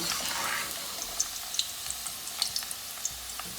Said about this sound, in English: we're going to fry this till they're slightly golden brown